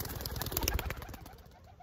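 Brief flutter of a pigeon used for bird dog training, rapid wingbeats close by that fade out within two seconds.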